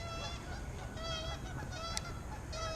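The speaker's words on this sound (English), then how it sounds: "The geese are over there fighting." Geese fighting near an urban pond let out repeated harsh honks in quick succession, moderately distant over a steady outdoor hiss.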